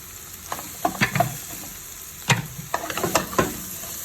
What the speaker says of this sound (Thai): ใส่น้ำมันลงไปจะพริกลงไปจ้ะ ผัดให้หอมเนาะ พอพริกหอมใส่เห็ดลงไปเลย